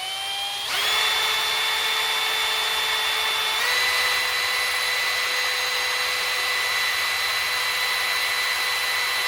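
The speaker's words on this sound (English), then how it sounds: "now we're just gonna file it with the drill" A power drill spins up sharply and holds a high, steady whine, stepping up in pitch partway through, as it files out a carburetor jet for a 1966 VW Split Bus with dual carburetors.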